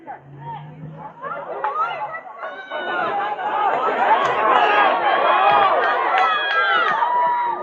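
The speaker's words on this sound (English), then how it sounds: "Crowd's excited about that." Spectators at a boys' varsity high school soccer playoff match in Douglas start chattering and cheering, the crowd noise swelling from sparse voices to a busy, lively babble.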